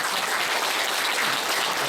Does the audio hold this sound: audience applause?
yes